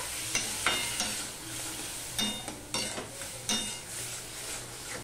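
Spice masala with coriander powder and a splash of water sizzles in a pan for a flat bean seed vegetable dish, with repeated scraping stirs of a spoon and sharp bursts of frying between them.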